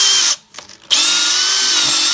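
Power drill fitted with a speed reamer reforming the end of MLCP multilayer pipe, a loud steady whine that cuts out briefly then resumes and runs on evenly, close up with no talk.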